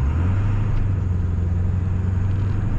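Truck with a swapped 7.3 Powerstroke diesel under throttle, a deep, steady low engine drone heard from inside the cab, loud and continuous without clear pitch changes.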